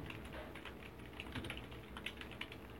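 Steady, rapid clatter of keys on a computer keyboard while writing HTML tags, close and quiet, continuous for a few seconds with no voice.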